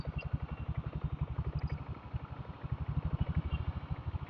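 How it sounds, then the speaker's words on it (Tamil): A 1999 company diesel Bullet motorcycle rides along at low speed, its slow, even thump of exhaust pulses steady and close throughout, with faint traffic noise behind and no talking. "company diesel புல்லட்டா 99 model"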